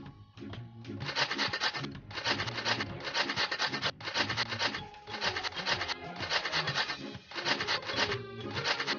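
Cheese being grated in the Masha and the Bear pizzeria mobile game, a rhythmic series of rasping scrapes repeating steadily back and forth for several seconds, clear and prominent with no talking.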